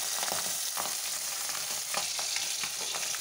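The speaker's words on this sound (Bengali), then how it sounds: "পাবদা মাছগুলো খুব ফাটছে" Pabda fish fry in hot oil with a dense, steady sizzle, broken by frequent sharp pops and crackles as the fish burst and spit, heard close with no talking.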